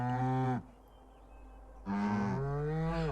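Cows in the video game Orwell's Animal Farm give two long, loud moos separated by a short quiet pause, each call full and close.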